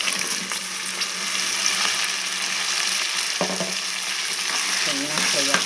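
Ground spinach paste frying with green peas in oil in a pan, a steady close sizzle with stirring scrapes throughout and a few brief utensil clinks near the end.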